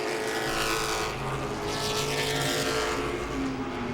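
Late model race cars roar around Langley Speedway, a dense layered engine drone with shifting pitch as the pack passes, loud and continuous for the whole stretch.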